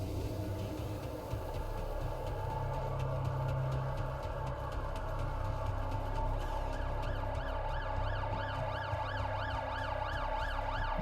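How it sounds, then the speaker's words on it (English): An ambulance siren in the video game The Alters, wailing up and down over a low engine rumble and growing clearer and more regular toward the end, with no talking. "Ambulance."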